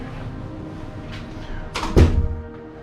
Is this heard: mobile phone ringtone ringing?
no